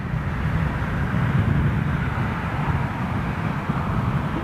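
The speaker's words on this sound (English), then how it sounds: "early departure going out of this 320" An Airbus A320 jet departs on an early flight, a steady, loud, broadband engine roar that holds without pause.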